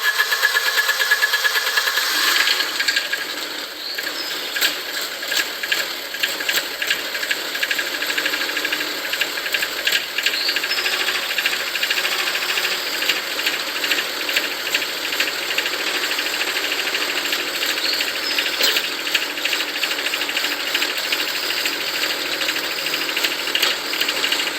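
A car engine runs before it is treated with an engine restorer and lubricant, giving a loud, steady idle with a constant rapid ticking, knocking rhythm throughout.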